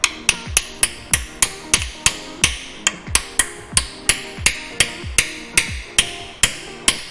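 Sharp metallic hammer blows drive a pilot bearing into a greased bore, about twenty strikes in a quick, even rhythm, close and distinct with no talking.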